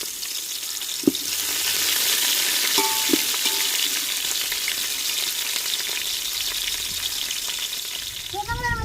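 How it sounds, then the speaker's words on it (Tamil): Chopped onions and green chillies frying in hot oil for fish biryani give a loud, constant hiss, with a few distinct knocks and spoon scrapes early and near the end, and no voices. "வெட்டி வச்ச வெங்காயத்தையும் சேர்த்துக்கலாம் ரெண்டு பச்சை மிளகா சேர்த்துக்கலாம்"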